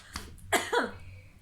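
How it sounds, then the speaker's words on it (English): A person coughs in a short, harsh burst of two or three hacking coughs, close and fairly quiet, then the sound trails off. "I just have a coughing attack"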